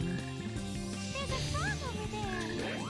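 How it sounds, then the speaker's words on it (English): Croaking of a frog in the video game Sonic Heroes rises through busy game music and sound effects, with brief warbling calls sounding close and fairly loud. "There's a frog over there! There is a frog."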